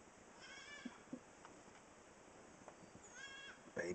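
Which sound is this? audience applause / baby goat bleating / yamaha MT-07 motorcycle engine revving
baby goat bleating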